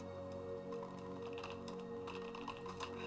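Computer keyboard typing with scattered soft key taps over a steady electronic hum and tonal background drone, no speech.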